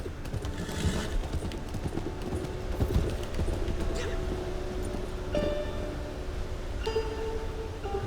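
Horse hooves clip-clopping steadily while riding fast through snow in Red Dead Online, a continuous rhythmic gallop close by with ambient game sounds and brief talk over it.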